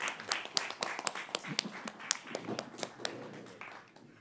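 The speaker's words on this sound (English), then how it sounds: "All right, let's give a round of applause." A small audience at a debate event claps, scattered distinct hand claps in an irregular rhythm, close and fairly soft, fading toward the end with no talk over it.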